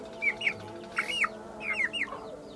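Young chickens suffering from a cold make short chirping clucks in several quick bursts, close by, over a faint low background; the snoring, rattling breathing is not clearly evident.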